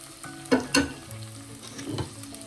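Small shallots hit a hot pan for a spicy sole fish curry, with a couple of sharp sizzling bursts near the start and a low frying crackle that carries on steadily afterward, close up and with no talking.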